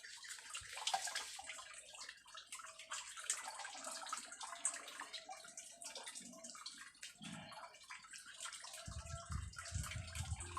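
Liquid organic fertilizer trickles and splashes out in a thin, uneven pour with drips, close and fairly faint, with a slightly heavier gush near the end and no talking.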